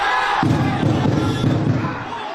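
Football fans jeer and boo in an airport arrival hall as a returning former national team coach walks through, a loud, dense crowd roar with overlapping shouts that holds steady and then eases slightly.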